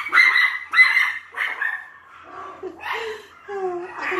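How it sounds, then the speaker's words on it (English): Several dogs bark in short, loud bursts close by, with yips and whimpering whines rising between the barks. "I set the dogs off."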